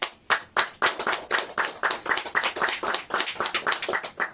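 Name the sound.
applause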